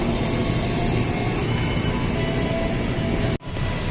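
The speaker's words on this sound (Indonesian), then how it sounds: "Ya kereta kita sudah sampai teman." A new commuter train at a Jakarta station, heard as a loud, continuous rumble with broadband rail noise and a brief sharp dropout near the end.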